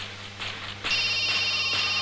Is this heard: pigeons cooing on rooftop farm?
no